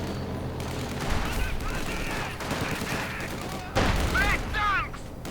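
Rapid gunfire and bursts rattle through a Company of Heroes 2 battle, dense overlapping shots and whistling shells under a steady wash of combat noise, fairly loud throughout.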